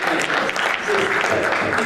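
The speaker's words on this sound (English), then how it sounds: "clapping for that one." Audience at a business conference clapping loosely and unevenly, a moderate patter of hands that rises slightly midway, with faint crowd murmur beneath.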